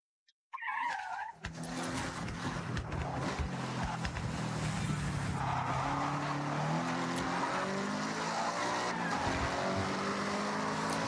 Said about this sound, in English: Why do I hear the cars braking like hell today?